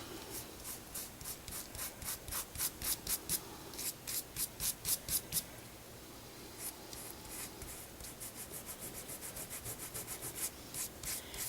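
Dried Zip Dry glue rubbed off a spinner card with a finger, a quick run of close, dry scrubbing strokes in bursts, pausing briefly before a faster, lighter series of rubs.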